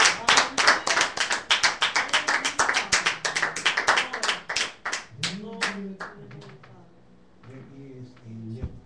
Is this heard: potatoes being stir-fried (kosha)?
no